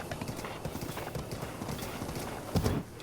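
Horse hooves clip-clop at a steady walking rhythm in the video game Zelda: Breath of the Wild, close and fairly even, with a louder thump of movement near the end.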